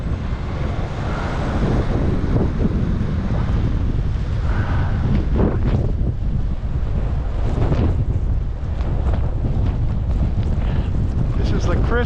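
Blizzard wind in Buffalo, New York roars and gusts continuously, buffeting the microphone with a loud, dense rumble that never lets up.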